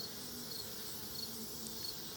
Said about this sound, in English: These bees are doing pretty well.